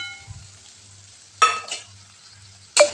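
Cooked okra with crushed peanuts being stirred in a pan gives a quiet bed of frying, broken by two louder bursts of scraping near the start and end, with no talk.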